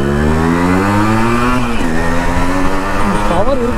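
A Yamaha RX100 motorcycle, full stock, runs close during a test ride. Its loud buzzing two-stroke engine climbs in pitch through the gears, with short dips between them.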